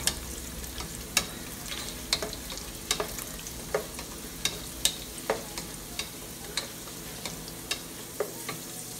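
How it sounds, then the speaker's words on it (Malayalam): Cashews and raisins fry in hot oil with a continuous soft sizzle, punctuated by regular sharp clicks and taps of a spoon stirring against the pan, close and moderately quiet. "അപ്പോൾ അണ്ടിപ്പരിപ്പും മുന്തിരിങ്ങയും നന്നായിട്ട് മൂത്തിട്ടുണ്ട്."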